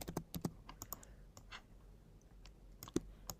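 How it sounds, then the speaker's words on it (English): Quiet keystrokes on a computer keyboard while a password is typed into a UX design layout, a quick cluster of clicks, a pause, then a few more taps, faint and close. "let's click T on our keyboard and type"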